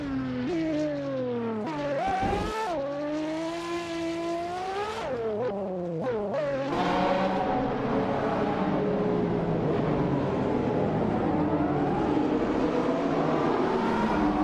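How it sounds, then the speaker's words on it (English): A 2005 Bugatti Veyron in a racing game revs through rising and falling engine pitch sweeps, shifting repeatedly early on, then settles into a steady high-speed roar with overlapping engine tones from other cars. "Bot G Maxiate is driving a 2005 Bugatti Veyron, known for its incredible top speed and luxury."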